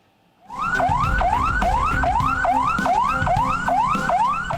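An ambulance siren on a street in Klaten, Central Java, wails loud and close in a steady rising-and-falling cycle, repeating about every half second with no pause after a brief quiet start.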